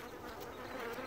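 Honeybees from a strong, rapidly growing colony buzzing densely around their hive, a steady close-up drone filling the whole moment with no voices.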